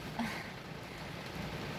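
Rain falls steadily on a rainy night in England, a soft, even hiss that stays faint and constant throughout.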